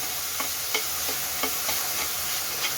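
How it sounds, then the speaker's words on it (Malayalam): Chopped onions sauté in a pan, giving a steady bright sizzle with faint periodic scrapes and clicks as they are stirred. "ഇതിലേക്ക് നമ്മൾ ചോപ്പ് ചെയ്ത് ഓണിയൻ, നന്നായിട്ട് ബ്രൗൺ ആവണ വരെ"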